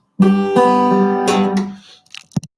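Guitar ending played alone, a descending run of plucked notes down a chord ending on a sustained low bass note, then a couple of faint short plucks as it fades.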